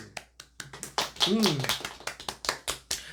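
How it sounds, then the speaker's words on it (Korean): Church congregation claps during a Korean Sunday worship service, a short run of distinct, fairly close hand claps in a loose rhythm, with a voice speaking briefly amid them. "박수."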